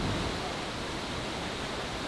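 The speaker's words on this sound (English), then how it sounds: "we're at a beautiful waterfall" A waterfall gives off a constant, loud broadband rush of falling water that fills the whole stretch with no breaks.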